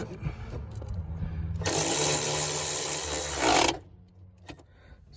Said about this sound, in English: I'm so glad I have my electric ratchet. I could just stick it in there, get on that nut.